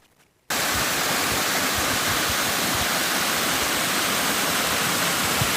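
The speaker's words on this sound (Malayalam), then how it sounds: "പ്രകൃതി സ്നേഹികളുടെ മനം നിറച്ച് ഒഴുകുകയാണ് കടങ്ങോട് മല്ലൻകുഴി നീർച്ചോല" Mallankuzhi waterfall stream in Kadangode after monsoon rain. After a brief quiet start, the water rushes in as a loud, steady, close roar that continues unbroken to the end, with no voices.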